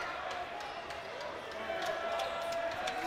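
Crowd noise swells at a college basketball game after a disputed foul call, a steady roar of voices rising louder toward the end, with faint bounces and squeaks from the court.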